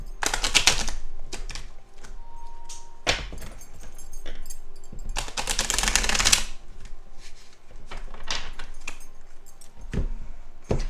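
Tarot cards being shuffled in several quick riffling bursts, crisp and close, separated by short pauses with light handling noises.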